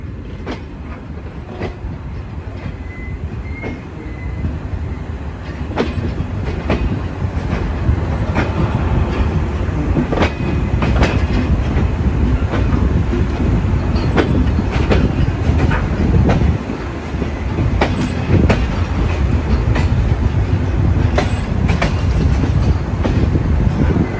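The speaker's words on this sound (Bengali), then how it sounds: "আমাদের ট্রেন ছেড়ে দিল কোট চাঁদপুর রেলওয়ে স্টেশন থেকে" Shimanto Express passenger train departing Kotchandpur railway station, a loud continuous rumble with regular rhythmic clicking of wheels on rail joints that builds slightly and holds steady.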